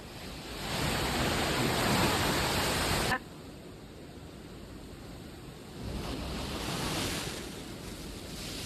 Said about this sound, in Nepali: पुरै छाल हान्छ यहाँ त